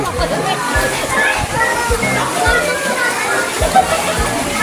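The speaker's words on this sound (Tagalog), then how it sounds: "Dito naman po ko sa isang swimming pool." Children shout and play in a resort swimming pool, water sloshing and splashing steadily beneath their chatter.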